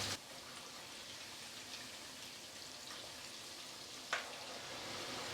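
Potatoes fry in oil for Dhaka-style Kacchi biryani, giving a soft, steady sizzle at low volume with a couple of brief clicks, no talking.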